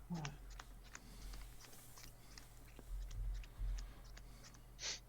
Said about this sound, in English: Let me do one pile shuffle.